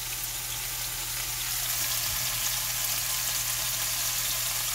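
Thin pork chops frying in a pan, a continuous even sizzle that stays steady and close throughout, with no talking over it.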